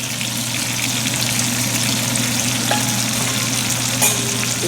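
Spinach wilts and fries in a pan with cooked tomatoes for Tuscan butter salmon, giving a steady, close, even sizzle that holds throughout with no talking over it.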